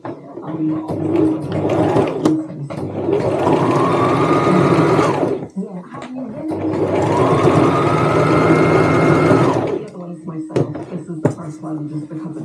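A sewing machine stitches a tote bag strap in two long, steady runs separated by a brief pause, with a rapid mechanical whir close by and faint voices in the background.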